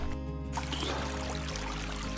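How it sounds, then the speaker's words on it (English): Water from a small stream along a hot walking trail, heard as a close, continuous trickle and splash with steady flow throughout. "Found a little stream."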